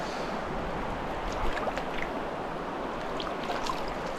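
A cold river flows steadily at close range, with splashes and trickles as someone wades in, near the site of an 1848 iron forge.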